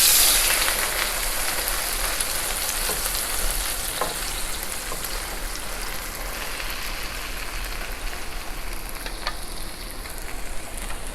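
An onion omelette sizzles and fries steadily in a pan on the stove after being flipped, a continuous close crackling hiss with no talking.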